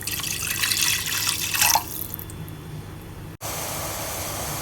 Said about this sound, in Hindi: हम इसमें 2 गिलास पानी डालेंगे।